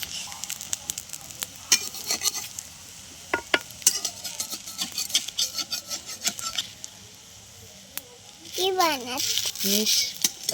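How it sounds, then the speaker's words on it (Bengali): Patishapta batter made with water chestnut sizzles softly in an oiled frying pan, with scattered spoon clicks and scraping under people talking nearby. "ব্যাটারটা দিয়ে দিলাম একটু তেলটা বেশি হয়ে গেছে"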